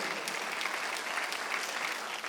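A church congregation claps together during a Sunday worship service, producing dense, steady applause that fills the room without a break.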